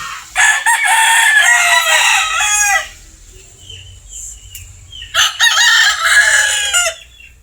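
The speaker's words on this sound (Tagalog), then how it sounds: "Ayan, may ilang manok." Roosters crow loudly nearby, two long cock-a-doodle-doos separated by a quieter stretch with soft clucking and low background rumble.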